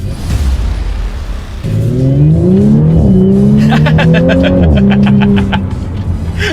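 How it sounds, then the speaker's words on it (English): A 2019 Audi S4 engine roars up through the revs under paddle-shifted acceleration, dipping in pitch at each rapid gear change before climbing again, loud and close. "Let's do a quick little acceleration with the paddle shifters"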